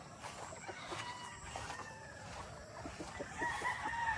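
A flock of newly harvested gamefowl, chickens and roosters, cluck in soft repeated calls, with a crow rising near the end; no one speaks.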